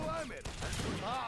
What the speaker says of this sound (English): we got some Gatling camels right now